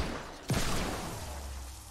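A single sharp, booming shot from the Judge shotgun wielded by Quickdraw Calamity in Fortnite Save the World, followed by a low rumbling tail, heard up close.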